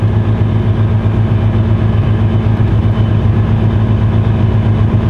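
A vehicle engine idles nearby with a loud, steady low rumble that holds constant throughout, with no voices.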